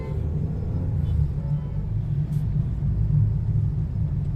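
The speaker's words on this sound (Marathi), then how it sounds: "इथे ट्रॅफिक भेटलंय बघा किती" Slow road traffic at night near an accident, a deep continuous engine rumble of idling and crawling vehicles, steady and moderately loud with no talking.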